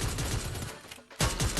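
Rapid gunfire in the video game Free Fire, dense bursts of automatic shots that drop off briefly and then resume, loud and continuous in the foreground.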